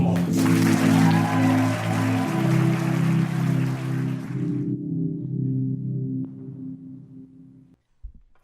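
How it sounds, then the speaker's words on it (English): An audience claps together for a group at a conference talk, a dense wash of applause over a low sustained tonal hum, the clapping fading out after about five seconds while the hum lingers alone. "Please give them a round of applause"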